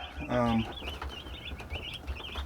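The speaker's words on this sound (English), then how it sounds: "Just chicks in the brooder." Young chicks in a brooder peep in quick, high repeated chirps near the listener, with a brief low voice-like sound early on.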